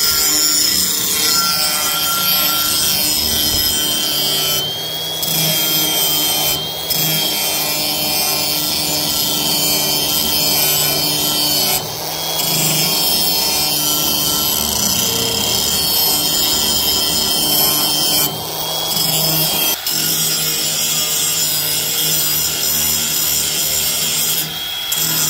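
A dull blade from a grass-cutting tractor being sharpened by hand, giving a steady, continuous grinding and rasping scrape that runs loud and close throughout with brief pauses, and no talking.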